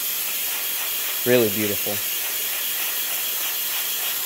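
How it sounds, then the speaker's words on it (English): A three-spouted steam wand on a La Spaziale S1 commercial espresso machine gives off a steady, loud, continuous hiss, while a voice speaks briefly partway through. "It is a three spouted steam wand, but this thing is such a powerhouse of a steam wand."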